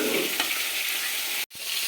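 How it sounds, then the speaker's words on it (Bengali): Bhola fish frying in oil in a pan, a continuous close hiss and sizzle with a brief stir, cut by a short silent gap near the end. "এক পিঠ হয়ে গেছে, আর ওপিঠটা ভেজে নেবো।"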